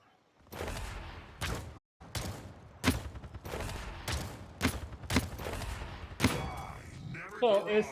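Sharp, distinct gunshots in Paladins, fired one at a time in a spaced series of about eight shots, with a voice talking between them.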